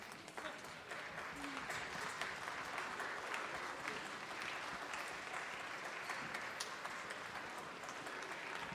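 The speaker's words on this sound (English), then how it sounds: "Clap for them if you're not standing." At a middle school spring choral concert, the audience claps for the singers and musicians in a long, even wash of applause from a large crowd, sustained without pause.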